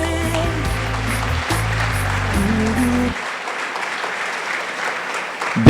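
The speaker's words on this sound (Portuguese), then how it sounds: "Você pode aplaudir o Senhor?" Congregation clapping at a church service, a continuous sustained wash of applause under low sustained instrumental tones that stop partway, the clapping carrying on alone afterward.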